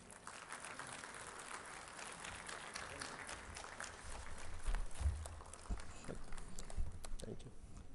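An audience at an institute foundation day award ceremony applauds steadily throughout, a continuous crowd clapping that swells slightly midway, with faint talk underneath.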